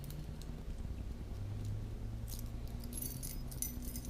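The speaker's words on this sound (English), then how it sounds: "Keys are in my daggone way." A bunch of keys jangles in short bursts while someone ties a basic fishing knot with line, lure, sinker or hooks, the metallic rattling close and continuous over a low background hum.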